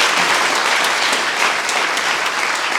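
Steady, loud applause from an audience at a Slovenian cultural holiday event in a community hall, dense clapping filling the whole stretch without pause.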